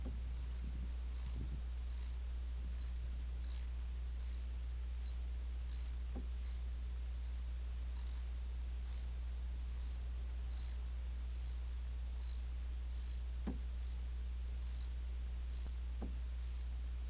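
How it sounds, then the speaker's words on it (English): A ratchet clicks steadily in a quick repeating rhythm, close and faint, while tightening the ignition coil bolt on a 2005-2012 Toyota Avalon engine, with a low hum underneath and no talking. "Just screw it on back up, nice and tight and snug."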